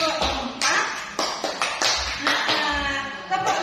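A group of people performs a patterned clapping routine in a teaching session, sharp distinct claps in short rhythmic clusters, with talk mixed in between the beats.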